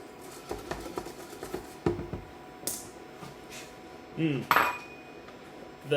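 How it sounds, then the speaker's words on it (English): A utensil scrapes and taps against a bowl while oats are stirred together with turmeric, giving irregular close clinks and scratches with a few sharper knocks and no talking. "once we start mixing it up, it'll get incorporated into all of those oats"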